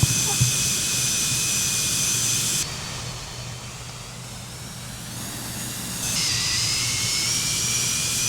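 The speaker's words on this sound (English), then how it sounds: "That's supposed to be like a flyby sound, but it doesn't simulate some of that stuff very good." Jet engine flyby in a flight simulator game, a loud steady whine and roar that drops to a duller rumble for a few seconds before the bright whine returns.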